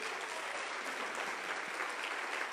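Congregation in a church breaking into steady, dense applause, a continuous wash of clapping with no voices rising above it.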